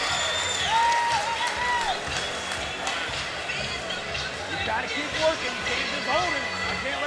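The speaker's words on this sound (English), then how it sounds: "Listen to this crowd" A crowd at the XFC 19 mixed martial arts event in Charlotte roars and cheers steadily through the whole stretch, a dense, far-off wash of voices with scattered whoops and applause under live commentary.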